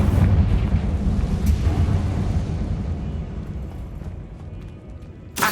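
A Confringo fire spell blasts in Hogwarts Legacy, a loud, deep, rumbling burst that slowly fades over several seconds, with a sharper crack partway through and another abrupt blast right at the end.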